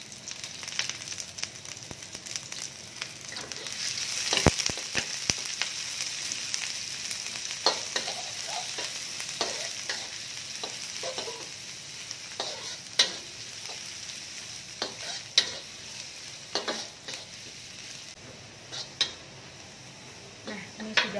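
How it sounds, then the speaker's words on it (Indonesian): Shallots, garlic and ginger sautéing in oil, a steady close sizzle with scattered clicks and clinks of a utensil against the pan, continuing throughout without talk. "kita tumis ya untuk bawang merah, bawang putih, dan juga jahenya ya"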